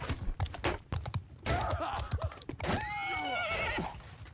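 A horse in a multiplayer medieval combat video game whinnies loudly as its rider dismounts, with hoof clops and short game clatter around it.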